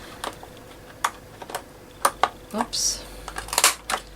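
A hole punch bites through a laminated cover in a few sharp clicks and crunches, close and fairly quiet, with a brief spoken exclamation in between.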